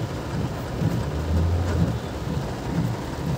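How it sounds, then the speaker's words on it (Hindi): Heavy rain pours on a highway about 20 to 25 km from Jaipur, with a continuous dense hiss and low rumbling thunder swelling midway, steady and loud with no talking. "बहुत तेज़ बारिश लग चुकी है अभी हमको।"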